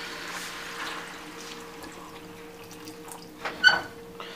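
One and a half cups of water poured into a pot of Puerto Rican meatballs (albóndigas) with olives, a soft steady trickle and splash building to a brief louder slosh near the end, close and faint.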